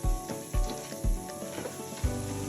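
Fresh thyme sizzling in a pot of hot oil alongside rosemary while Kenyan pilau rice is prepared, a steady sizzle broken by several low, rhythmic thumps roughly every half second, close and moderately loud with no talking.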